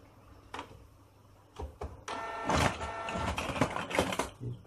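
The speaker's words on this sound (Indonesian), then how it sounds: "Kita hidupkan printernya." A customer's inkjet printer, under repair for printing that starts clean then turns broken and faded, is switched on: a few soft clicks, then a steady mechanical whirring and rattling that continues to the end, close by.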